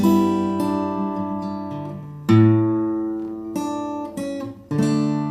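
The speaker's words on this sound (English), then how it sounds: "you can just play the bass, the A bass, so it sounds like this" Guitar played alone: a series of plucked notes including an A bass note and strummed chords ringing out, each attack decaying before the next, clear and close.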